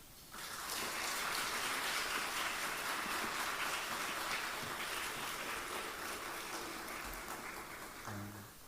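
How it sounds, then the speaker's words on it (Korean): A church congregation gives long, loud applause welcoming a guest pastor at a special early-morning prayer service, dense steady clapping that fades out at the end. "우리 큰 박수로 맞이하겠습니다."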